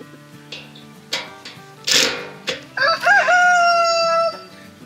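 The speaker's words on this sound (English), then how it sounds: "That's the reason you hear those roosters." Several roosters crow in close succession, loud and near, with one long drawn-out cock-a-doodle-doo finishing the sequence; background clucking of hens and farmyard noise underneath.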